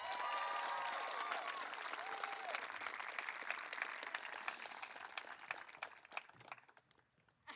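Sustained applause from an audience fills a school class awards night, steady clapping that thins and fades toward the end.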